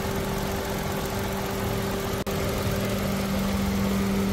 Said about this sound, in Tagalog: In superb running condition po ang engine.